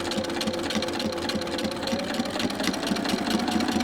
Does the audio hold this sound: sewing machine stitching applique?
yes